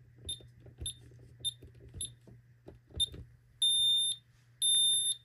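Ademco Vista 10SE alarm system sounding on arming: a series of short, sharp beeps in an even rhythm, then two longer sustained tones, close and clear over a low steady hum.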